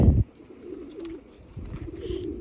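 Pigeons coo steadily in a dovecote during early-season egg laying and chick rearing, a low, continuous, overlapping murmur close by after a brief louder bump at the start.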